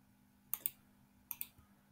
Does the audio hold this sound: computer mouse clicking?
yes